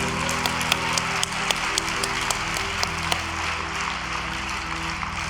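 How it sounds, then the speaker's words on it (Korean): A congregation at a night-long church prayer service claps for a mother, a steady, loud wash of applause with sharp individual claps standing out over a sustained musical drone. "그 엄마를 위해 우리 박수 한번 올려드려야 될 것 같습니다."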